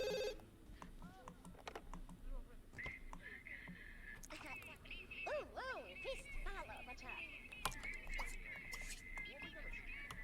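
A phone rings in The Sims 2 as repeated electronic ringing tones over game music and clicking, with a voice talking over parts of it.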